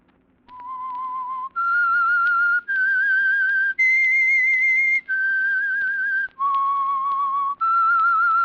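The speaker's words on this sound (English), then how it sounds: "That whistle is your signal for the Signal Oil Program" A whistled theme tune announces The Whistler, a radio mystery program. Seven long, clear notes follow one another in a slow, haunting melody, loud and close, with nothing else heard.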